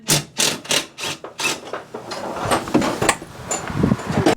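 A 13mm ratchet works loose nuts on the swivel seat base of a Ford Transit van: quick rhythmic ratcheting clicks and bursts close up, followed by irregular metallic rattling and scraping.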